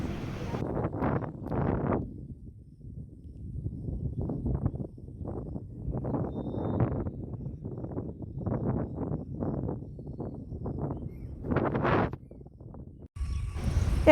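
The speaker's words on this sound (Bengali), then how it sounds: "আর এত পরিমাণ হাওয়া কি বলবো" Strong wind in a rural village buffets the microphone in rough, low gusts that rise and fall, with a voice talking over it at times.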